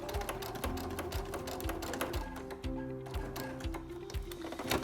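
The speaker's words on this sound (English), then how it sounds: "drop your presser foot again, sewing over to that other top corner" A sewing machine stitches a fabric seam with a steady, fast mechanical thumping and ticking rhythm of the needle, close and continuous for several seconds, with no talk.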